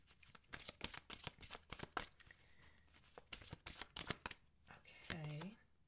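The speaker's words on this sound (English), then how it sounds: "Let's also pull in a Romance Angel card." Tarot and angel cards shuffled by hand in rapid, crisp riffling bursts, close and continuous, with a brief spoken word near the end.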